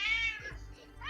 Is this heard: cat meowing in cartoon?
yes